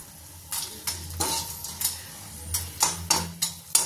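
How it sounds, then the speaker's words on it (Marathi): Edible gum (dink) frying in oil in a kadhai while being turned, giving a quiet sizzle under a series of about eight short scraping and clinking stirs at a fairly even pace. "हा डिंक जो आहे तो व्यवस्थितपणे थोडासा लालसर होईपर्यंत तळून घ्यायचा आहे"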